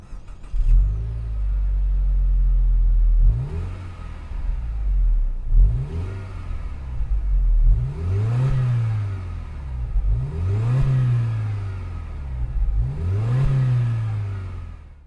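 A Subaru WRX S4 tS engine revs in five rising and falling bursts after a steady idle, with loud low-pitched swells repeating about every two seconds and no talking over it.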